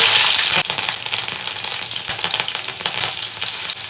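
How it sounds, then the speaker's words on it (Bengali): Dried red and fresh green chillies drop into hot mustard oil in a pan, a loud close sizzle that flares at the start, then settles into a steady crackling fry with light stirring, no voices. "তেলটা গরম হয়ে গেছে এর মধ্যে দিয়ে দেব প্রথমে শুকনো লঙ্কা দিয়ে দেব কাঁচা লঙ্কা"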